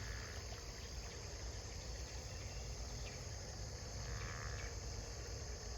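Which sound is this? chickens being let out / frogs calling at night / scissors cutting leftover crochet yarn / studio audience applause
frogs calling at night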